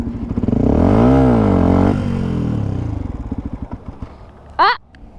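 A motorcycle engine revs up loudly, rises and falls, then settles into a throbbing idle, followed by a short sharp rev at the end.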